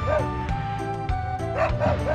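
A dog in the game Wild ARMs gives repeated short barks and yips over busy game music, several quick calls clustered near the end.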